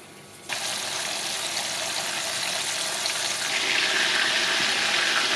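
A sudden loud, steady sizzle of flour-dusted fish frying in hot oil starts abruptly and continues, bright and hissing, growing slightly stronger toward the end.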